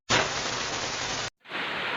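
Heavy rain pours down on a rainy afternoon, a loud dense hiss that stops abruptly and then resumes after a brief gap.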